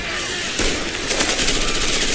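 Gunfire in Rainbow 6 Patriots, a dense, loud wash of shots and crackling blasts over a rough, noisy background with no clear gaps between reports.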